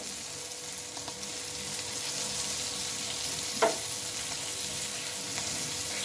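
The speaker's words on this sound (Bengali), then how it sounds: "এবার এটাকেও আমি ভালোভাবে মিশিয়ে নেব" A steady, close sizzle of a frying filling with chopped coriander leaves for steamed pitha, with faint stirring and one brief scrape of a utensil partway through, and no voices.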